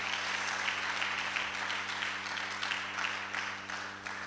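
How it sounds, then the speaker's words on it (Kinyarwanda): A church congregation applauds with steady, dense clapping that holds at an even level for several seconds over a constant electrical hum. "Reka twongere Yesu amashyi menshi"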